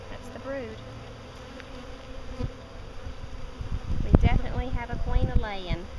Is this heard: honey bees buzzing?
yes